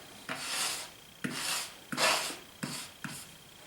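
A razor blade scraping dried paint off an artist's palette during an oil landscape painting session, five quiet rasping strokes in a steady rhythm.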